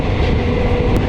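The Amaravathi Express passenger train rolls through forest near the Goa border, with a loud, continuous low rumble of wheels and carriages close by.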